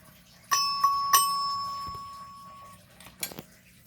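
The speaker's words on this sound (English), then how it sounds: "Right over here is a Simplex 4070-6 chime." A Simplex 4070-6 single-stroke fire alarm chime, 4-volt AC, is struck three times in quick succession, each ringing clear and bright before a long fading decay, followed by a few soft knocks.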